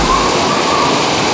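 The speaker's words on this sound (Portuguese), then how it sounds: "Olha, aqui a cachoeira da caverna." Waterfall inside a cave at the Pedra Caída complex in Chapada das Mesas, Maranhão, a loud, steady broadband roar of falling water filling the space without pause.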